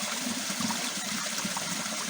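Creek water rushes through a dark waterfall canyon at Water Wheel Creek, a constant close roar of flowing water that holds steady from start to finish.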